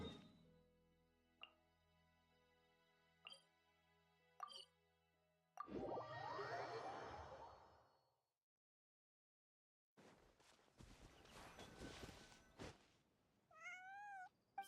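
Bonnie, a cat in Genshin Impact, meows in short, faint calls with soft plops, set among quiet game sounds, a stretch of silence and a brief rising, wavering cry near the end.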